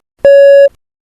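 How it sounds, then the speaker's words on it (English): A single steady electronic beep, clean and loud, lasting about half a second before cutting off into silence. "Please prepare your answer after the beep."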